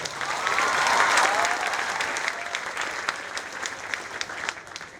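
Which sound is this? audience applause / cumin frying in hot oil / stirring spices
audience applause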